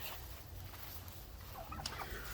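A tom turkey gobbles in a farmyard kept with chickens, a faint, distant rattling call rising above steady low background noise, with no talk.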